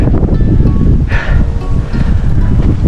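Wind gusts buffet the microphone on a hilltop viewing deck at Quitinday Green Hills in Albay, a steady low rumble with brief rustling, loud and continuous, no talk.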